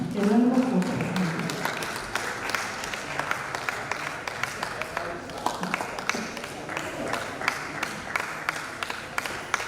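Audience applause at a NUJ press week gathering, a crowd clapping steadily for about ten seconds after a speaker's voice fades at the start, with dense overlapping claps filling the room.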